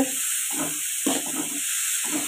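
Onions sautéing in a pan for egg fry, a steady close sizzle and hiss with soft bursts of stirring or tossing breaking through at intervals, no talking.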